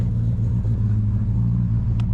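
A cammed turbo Holden VL Calais engine idles with a deep, steady low rumble and a slightly lumpy, uneven throb, close by and continuous without voices, in bitterly cold weather.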